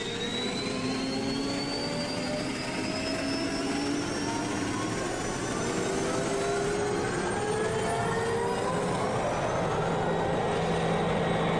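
A jet turbine built in Minecraft roars steadily and loudly for several seconds, a dense continuous whine and rumble with rising tonal streaks, with no talk over it.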